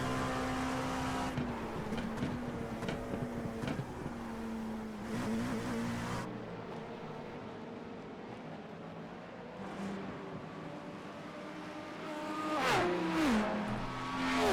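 Engine of an LMP2 prototype race car in an IMSA racing video game, droning steadily with rising and falling pitch sweeps as it shifts and passes other cars, loud and continuous with no talk.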